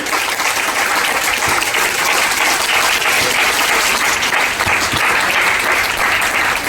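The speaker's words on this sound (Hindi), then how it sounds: "एक बार जोरदार ताली बजा दीजिए" A seminar audience in Agra bursts into loud, steady applause. Dense clapping holds at full strength from start to finish, with no voices over it.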